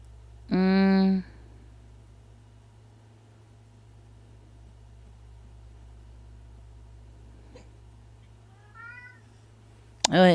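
A pet cat meows loudly and close by near the start, then gives a softer short call later and another loud meow at the very end, with long quiet humming stretches between.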